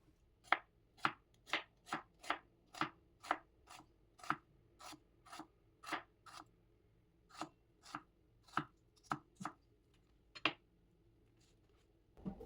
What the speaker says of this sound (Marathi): 2 कांद्याला छान स्लाइस मध्ये कट करून घ्यायचं